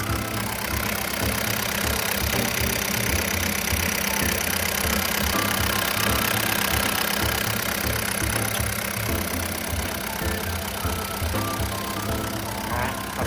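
Komatsu WA100-8 wheel loader with a Komatsu 4D95L diesel engine running, a steady, continuous rumbling drone heard close up and unchanging throughout, with no talking.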